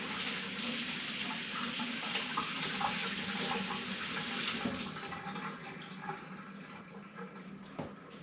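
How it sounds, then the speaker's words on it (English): Water from a kitchen tap runs in a steady, close stream over a horseradish root as it is rinsed, then cuts off, leaving a few faint drips and handling knocks. "let me just rinse the root off real quick"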